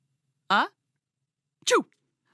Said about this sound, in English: let's take a listen to a few different types of sneezes here